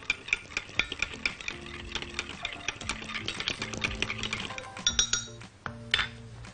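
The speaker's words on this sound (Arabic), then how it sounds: "واقلب السكر كويس جدا مع الخميره" Sugar and yeast being stirred in warm milk: a spoon clinks and taps against the bowl in a quick, fairly even rhythm, close and moderately loud, with no talking.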